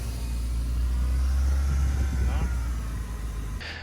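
A Porsche Boxster 987 engine idles with a steady low, close rumble and a faint whirring on top, an even drone that fades slightly near the end.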